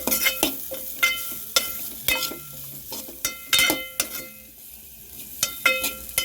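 Tamarind stirred as it fries lightly in oil in a pan: a quick, uneven run of scraping spoon strokes and clinks rides over a soft sizzle, close and clear with no talking.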